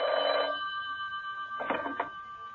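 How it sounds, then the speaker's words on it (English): An old-style telephone bell rings in a short burst, then rings again in two quick trills a second later, clear and close in an otherwise quiet room. "The telephone rang."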